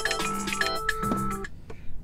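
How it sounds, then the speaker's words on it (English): A phone alarm ringtone plays close by as a bright, repeating electronic melody of short tonal notes for about a second and a half, then stops, leaving a few faint clicks. "That's my alarm for normally getting up for my day job."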